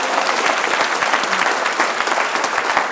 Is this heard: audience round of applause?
yes